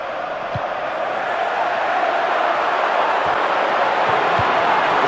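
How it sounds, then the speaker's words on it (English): A stadium crowd in the football video game FIFA 15 roars steadily after a goal in a Derby County versus Barnsley match, a loud, dense, continuous wall of cheering with a few faint thumps underneath. "It's 1-0, and the crowd really enjoying it."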